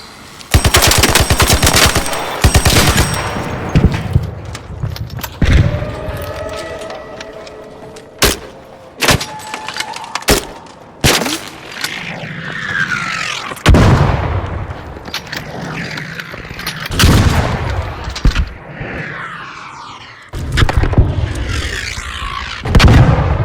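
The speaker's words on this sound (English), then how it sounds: "initial bombardment there." Gunfire and artillery bombardment in the video game Arc Raiders, with loud sustained machine-gun bursts followed by separate sharp shots and heavy booming impacts, some with rumbling tails, broken up by short gaps.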